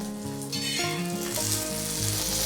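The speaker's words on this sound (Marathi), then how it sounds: "लो फ्लेमवरती आपल्याला ह्या मिरच्या मस्त अशा फ्राय करायच्या म्हणजे त्या एकदम छान आणि क्रिस्पी अशा होतात" Green chillies fry on a low flame in hot oil with a steady, bright sizzle that stays fairly loud throughout, while a faint tonal background hum sits underneath and no one speaks.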